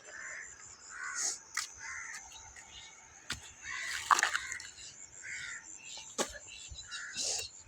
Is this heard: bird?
yes